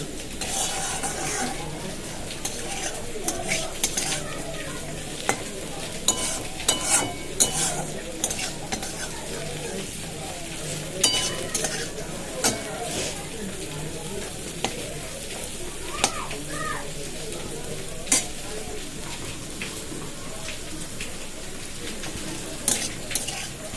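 Food fries in a home kitchen pan with a continuous close sizzle, broken by frequent scraping and stirring clinks of a utensil against the metal throughout.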